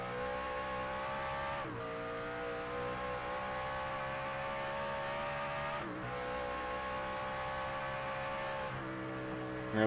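Racing trucks at Portland International Raceway, a loud engine held at high revs that drops sharply twice under heavy braking and downshifts before climbing again, recorded close and continuous.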